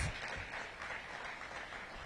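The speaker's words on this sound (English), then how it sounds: "Please give them an outstanding round of applause" An audience at a mayoral event applauds a Duke Ellington ensemble, a faint, steady, distant-sounding wash of clapping lasting a couple of seconds.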